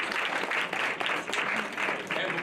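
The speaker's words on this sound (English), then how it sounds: "Let's give them a round of applause." Banquet audience applauding at a school of communications awards dinner, a steady wash of many hands clapping, fairly loud and continuous for the full few seconds with no break.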